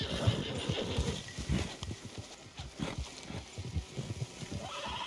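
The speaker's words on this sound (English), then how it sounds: "Vou pegar um cavalo agora." Horse in Red Dead Redemption 2, clip-clopping hooves and snorts close by in an irregular rhythm, with faint ambient noise behind.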